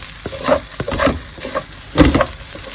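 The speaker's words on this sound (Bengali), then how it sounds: "চালটাকে আমি ভালোভাবে ভেজে নিচ্ছি" Kalojira rice grains crackling and hissing in a hot pan, stirred in short scraping bursts, loud and close.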